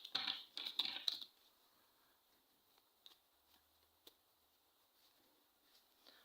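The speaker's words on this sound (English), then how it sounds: "we're going to give this a shuffle" A short burst of crisp tarot card riffling up close, followed by a few faint, scattered taps and flicks in near silence.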